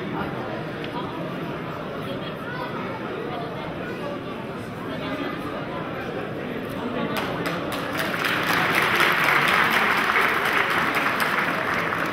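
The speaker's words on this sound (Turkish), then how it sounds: "Alkışlarla Rıza Başkanı buraya davet ediyorum." Steady applause from an audience fills a ceremony hall during a Turkish political gathering at an Istanbul sports event, with murmured chatter underneath; the clapping swells louder toward the end.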